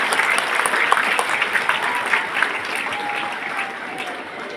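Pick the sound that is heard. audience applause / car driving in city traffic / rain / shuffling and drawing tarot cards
audience applause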